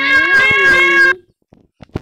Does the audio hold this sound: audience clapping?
no